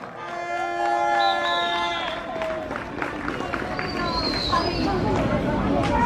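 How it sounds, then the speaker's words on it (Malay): A crowd at a Pakatan Harapan political rally in Seputeh, Kuala Lumpur applauds a city councillor with steady, sustained clapping and cheering that holds at a constant level. A voice and other crowd noise blend into it. "Saya menjemput Syakir dan berikan tepukan gemuruh untuk beliau."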